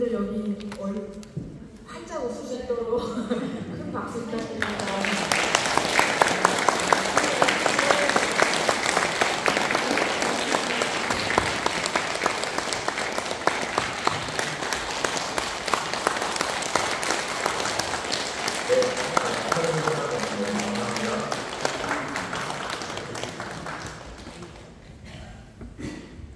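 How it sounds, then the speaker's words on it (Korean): A congregation at a Won Buddhist temple ceremony bursts into sustained applause, many hands clapping densely for about twenty seconds before tapering, with a voice speaking at the start and near the end. "큰 박수 부탁드립니다"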